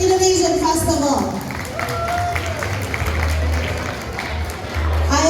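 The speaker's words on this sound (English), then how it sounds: "let's give a round of applause for the 10th annual of Somersworth Indonesian Festival" Audience applause and cheering fill a community hall at the 10th annual Somersworth Indonesian Festival, a steady crowd clatter with a voice speaking over it early and music tones drifting through.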